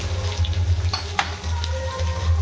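Chopped onions and green chillies sizzle steadily in a pan for paneer bhurji, with a few sharp scrapes of a spatula as they are stirred, close and continuous, with no voices.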